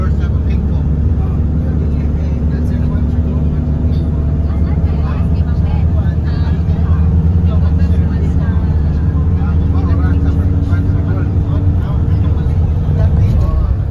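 Motorcycle riding on a road trip, a continuous low engine drone and road rumble held at steady loudness with wind noise, heard close from the bike, with voices talking faintly over it.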